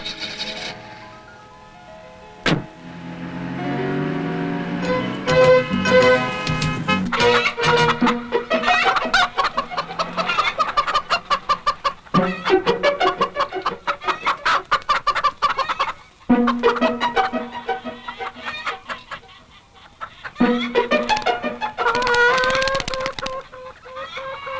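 A chicken clucks repeatedly in a long run of close, loud, choppy calls, with uneven rhythm and brief pauses, rising now and then into squawks, and no voices over it.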